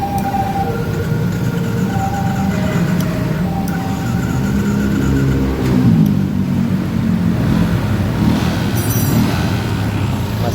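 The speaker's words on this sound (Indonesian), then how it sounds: "masih bisa di starter" Yamaha Jupiter MX motorcycle engine running at a steady idle up close, a loud continuous drone with a few tonal whines and clicks near the starter and a brief voice partway through.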